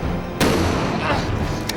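A single loud gunshot bursts out during a reenacted police shooting for a crime documentary, followed by a faint second crack near the end over a noisy, dense background.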